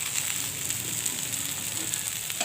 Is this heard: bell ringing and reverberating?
no